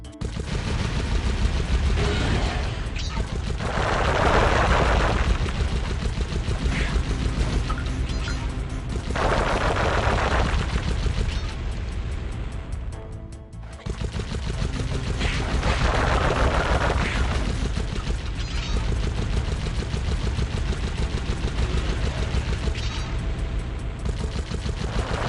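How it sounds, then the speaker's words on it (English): Cannon fire in the video game Sly Cooper and the Thievius Raccoonus: loud, dense booming blasts in continuous rapid volleys over a rumbling din, with no talk. "I bet that cannon is powerful enough to blow down those heavy security doors"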